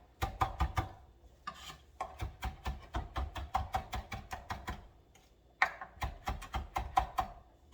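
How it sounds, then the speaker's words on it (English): Flat leaf parsley roughly chopped with a knife on a board, a quick run of crisp, evenly spaced thuds with a brief pause, then more rapid chopping, close and clear. "I'm just gonna give it a rough chop"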